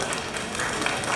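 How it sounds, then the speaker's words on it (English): An aquarium show audience breaks into applause, a brief dense burst of many hands clapping together at close range. "a huge round of applause to thank them for making our show possible"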